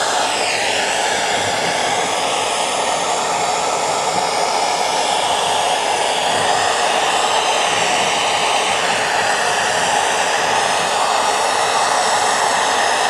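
A torch flame roars steadily while heating bronze wool and stainless steel wool, a loud, continuous rushing blast with no break and no voices.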